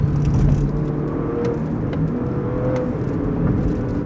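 A Porsche Panamera 4 E-Hybrid accelerates in sport mode, heard from inside the cabin as a steady, smooth engine hum with rising tones and road rumble underneath, continuous and moderately loud.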